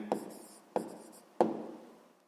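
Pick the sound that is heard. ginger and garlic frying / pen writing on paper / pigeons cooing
pen writing on paper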